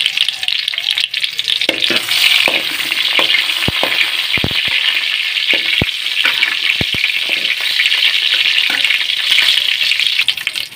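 Crushed garlic fries in hot oil with a continuous bright sizzle and occasional sharp pops and spatters, loud and close with no talking.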